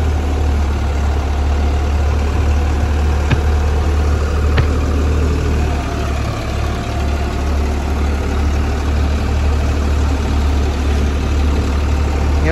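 A Deutz Fahr Agrolux 50 4WD tractor drives a thresher at 1500 RPM beside wet paddy, a loud, steady low engine drone and mechanical hum running unbroken, with a couple of faint clicks.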